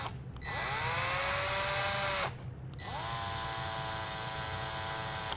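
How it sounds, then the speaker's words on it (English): A power drill spins a nut to thread it onto a tube for wiring work, heard as two loud high whirring bursts separated by a short pause, each winding up and settling into a steady spin. "So hopefully the drill bit will grab the tube and it'll start threading up."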